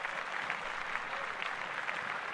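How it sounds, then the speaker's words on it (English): Applause from a podcast studio crew while sports news about a Heisman Trophy win is discussed, a steady wash of clapping at moderate level with no talk over it. "clap that up"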